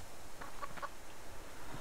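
In the video game Subsistence, a chicken gives a quick run of three or four soft clucks, faint and close, over a low background hum.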